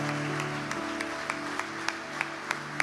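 A church congregation applauds, forming a dense continuous wash of clapping with a few sharper claps standing out in a steady rhythm near the end, beneath sustained background tones.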